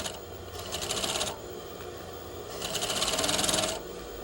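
Sewing machine stitching a sleeve into a garment, running in two steady bursts of rapid needle chatter separated by a short pause, close and clear with no talking.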